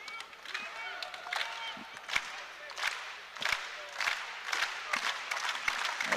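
A lively arena crowd at a college men's volleyball match between BYU and UCLA, with rhythmic bursts of clapping and cheering that swell and drop repeatedly, fairly distant, with an announcer talking over it.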